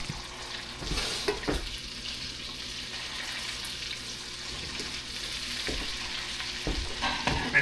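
A hot dog fries in butter until its casing crisps, giving a continuous low sizzle punctuated by occasional scraping and tapping from a utensil turning it in the pan.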